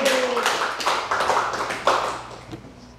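A church congregation in Incheon breaks into clapping, a loose burst of hand claps that tapers off, while a voice carries on faintly beneath.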